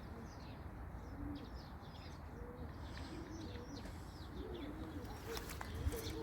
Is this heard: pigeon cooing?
yes